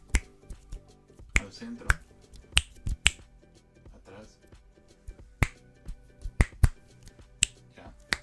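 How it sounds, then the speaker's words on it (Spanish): Sharp finger snaps, single and in quick pairs, scattered across several seconds while a speaker talks briefly during a test of a HyperX QuadCast S microphone. "Haz unos chasquidos así"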